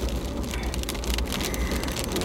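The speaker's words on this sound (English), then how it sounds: "it's still raining" Monsoon rain pours south of Las Vegas, a steady, dense patter of drops striking surfaces close by, continuous and even throughout with no voices.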